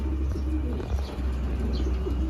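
Racing pigeons cooing in a loft, low soft coos repeating under a steady background rumble, with a faint chirp here and there and no talk.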